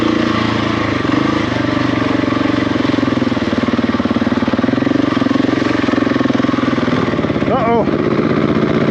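A 250 four-stroke dirt bike engine drones loud and close throughout, with a steady rough pulsing, and a short rising rev near the end.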